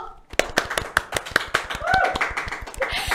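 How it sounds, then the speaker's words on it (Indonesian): A small group claps for a guest on a TVRI Kaltim podcast, sharp distinct hand claps in a quick irregular rhythm, close and fairly loud, with voices chattering faintly underneath. "Boleh tepuk tangan dulu?"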